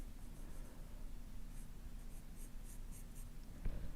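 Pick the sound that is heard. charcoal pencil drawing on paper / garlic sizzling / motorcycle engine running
charcoal pencil drawing on paper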